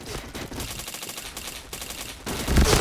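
Gunfire in a shooting video game, with rapid bursts of automatic shots in dense volleys, then a louder burst near the end, all close and steady.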